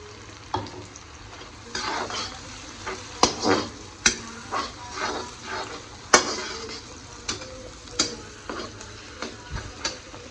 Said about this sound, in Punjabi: ਹੁਣ ਮੈਂ ਲਾਉਣੀ ਹੈ ਤੜਕਾ